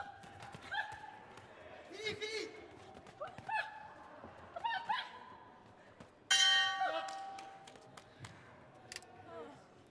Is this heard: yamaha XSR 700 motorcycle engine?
no